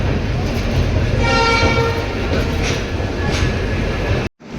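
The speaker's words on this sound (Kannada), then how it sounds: "ನೋಡ್ರೆ ಬಿಹಾರ್ಗೆ ಹೋಗೋ train guys. Bihar ಸೈಡ್ದು Gorakhpur express." The Gorakhpur Express, bound for Bihar, rolls into an Indian railway station with a loud, close, continuous rumble of wheels and carriages and a sustained horn tone, cutting off abruptly at the end.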